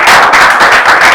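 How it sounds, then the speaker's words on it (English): A group applauds loudly and close by, a dense burst of clapping that runs steadily for about a second on a reality TV show set. "The script, please, a round of applause for it."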